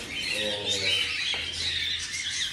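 Pet birds at feeding time squawk and chirp in a dense, overlapping chorus, with harsh calls and thin tweets close by, while a person's voice is faintly mixed in beneath them.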